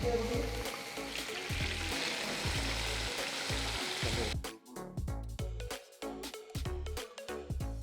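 Hot tempering of sesame oil and curry leaves hits sambar rice with a loud sizzling crackle. The burst sounds close and steady for about four seconds, then drops to sparse pops and clinks.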